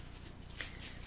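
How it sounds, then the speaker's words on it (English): Brief soft rustle of a large oracle card deck being shuffled by hand, a quiet papery swish with a slightly sharper flick partway through, close and faint. "the actual cards shuffle well"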